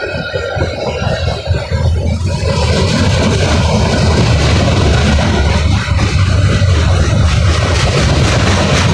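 Loud, close roar of an NS freight train locomotive engine passing, a heavy low rumble and wideband noise that fills the whole stretch without letting up.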